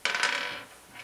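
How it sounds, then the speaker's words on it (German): A die rolled in a first-grade counting game makes a quick clatter, a bright rattle that tumbles for about half a second and settles, with a faint tap near the end. "Tilda hat eine 6 gewürfelt"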